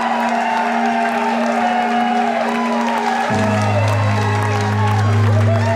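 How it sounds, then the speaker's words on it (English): Wedding guests applaud the newlywed couple, a loud, continuous crowd clapping with some cheering under sustained music, while a voice talks over the room. "give the biggest round of applause to the newlywed couple"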